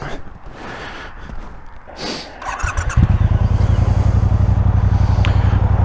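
Triumph Speedmaster motorcycle starts after some breathy handling noise, then its engine settles into a loud, steady, close rhythmic idle throb for the remaining seconds.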